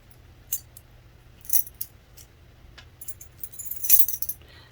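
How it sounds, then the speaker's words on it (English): Metal keys on a beaded chain jingle and clink in scattered light rattles, soft and close, building to a brighter cluster of jangles near the end over a low background hum. "I like to put my keys on a beaded chain."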